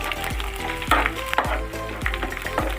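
Pieces of gond, an edible gum, fry in a pan with a continuous sizzle, broken by close metallic scrapes and clinks of a spoon stirring every half second or so.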